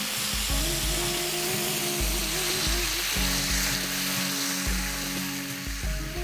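Tomato puree frying in a pan for tricolor pulao sizzles loudly and steadily throughout, close up, with faint stirring and a low tonal hum underneath.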